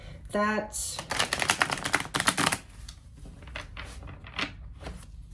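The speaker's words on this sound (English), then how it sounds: "I was guided to look at those but not take those, so I'm going to shuffle again too." Tarot cards shuffled by hand during a reading: a quick run of crisp riffling and tapping bursts, then softer scattered flicks, close by, after a brief vocal sound at the start.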